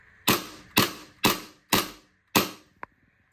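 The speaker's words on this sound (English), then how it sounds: "Drop the slide, safety catch is working." Tokyo Marui Hi-Capa 4.3 gas airsoft pistol slide snapping forward, five sharp metallic clacks spaced about half a second apart, close and loud, then a small click and quiet.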